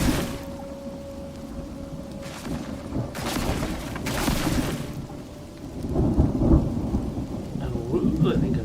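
Thunderstorm in the video game Mind Over Magic: steady rain patters under low rumbling thunder, with two louder cracking bursts in the middle and rolling rumbles toward the end.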